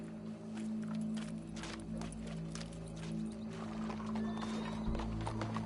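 Horse hooves clip-clopping at a walk in the video game Red Dead Redemption 2, a soft, fairly faint rhythmic patter over a steady low ambient hum.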